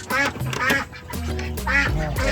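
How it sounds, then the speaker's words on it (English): Young Muscovy ducks at a poultry farm give repeated raspy quacks, loud and close, several birds overlapping in an irregular chorus with no speech. "These are young Muscovy ducks."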